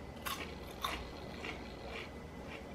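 Someone bites and chews crunchy fried vegetable wontons from the frozen aisle, with two sharp crunches followed by softer, steady chewing crackles, close and quiet without talking.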